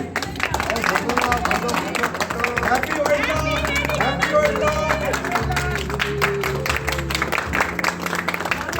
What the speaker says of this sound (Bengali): এইবার ধরে হাততালি